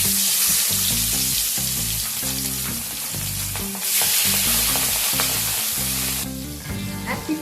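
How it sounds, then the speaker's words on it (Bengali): Pabda fish sizzling loudly in hot salted oil in a home kitchen, a continuous bright crackle and hiss that swells near the start and again midway, over steady background music. "তেল ভালো মতো গরম হয়ে গেলে এবার মাছ ছেড়ে দেবো"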